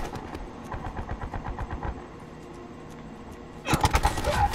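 Gunfire in Black Ops 4: rapid automatic bursts rattle through the first two seconds, a lull follows, then a louder close-range volley of shots ends the clip.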